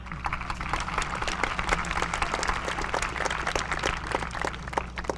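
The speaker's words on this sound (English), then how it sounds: "You can clap it up for that." A commencement audience at a high school graduation ceremony claps, a steady, moderately distant patter of many hands under a low hum, sustained evenly throughout.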